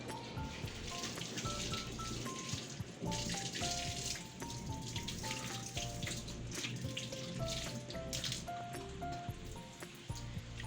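Water runs into a house and splashes steadily, like a strong flow pouring in nearby, with faint clinks and a musical tone underneath.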